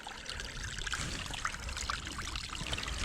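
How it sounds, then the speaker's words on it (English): Water runs and trickles steadily down a wet mountain path on the climb up Garth Mountain, a continuous close splashing flow with no break throughout. "it's literally running water up here"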